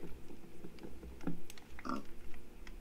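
A pig in the Minecraft video game, a few short grunting oinks spaced over a few seconds against a steady low background hum.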